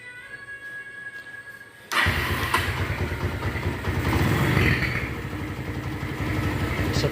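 A Honda MegaPro or Tiger motorcycle engine idles steadily and close by, a loud continuous rumble that begins abruptly after a quieter opening stretch of about two seconds.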